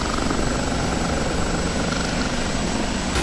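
Apache helicopter passing nearby in DCS World, a steady loud rotor and turbine drone that fills the whole stretch with no voices over it.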